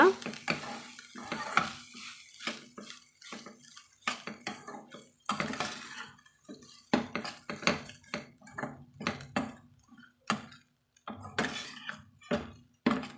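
Coriander rice being mixed in a pan, intermittent scraping and clinking of a spoon against metal with a light sizzle, close by, in uneven bursts separated by short pauses.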